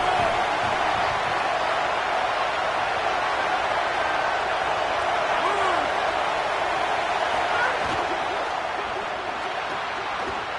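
Steady roar of a home crowd in a packed stadium at a college football game, Florida against UCLA, a broad continuous wash of cheering and noise that stays loud and even throughout.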